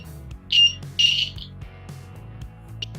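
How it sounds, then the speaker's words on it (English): Two short electronic buzzer tones from a DIY steady-hand wire game sound in quick succession, each lasting a fraction of a second, with a faint click afterward and a low hum underneath. "Whenever the ring touches the wire, the buzzer turns on."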